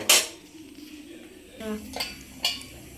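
A metal lid set down on a pot of simmering fish curry gives a sharp clank at the start, then a few softer clinks and knocks of cookware, close and fairly loud.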